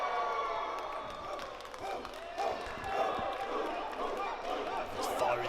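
A wrestling arena crowd cheers and roars steadily at a fairly close distance, swelling in waves with a few thuds from the ring, while a commentator talks over the noise.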